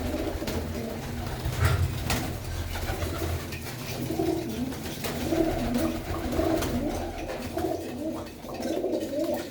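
Kikkar racing pigeons coo steadily in a loft at a house in Manuke Gill, a low, continuous rolling murmur from several birds with occasional brief rustles and no clear speech.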